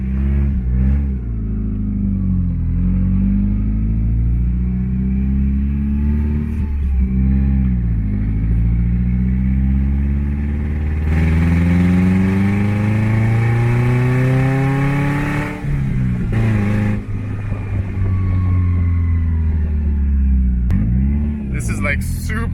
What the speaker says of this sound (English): I want to take it for a spin and hear this thing roar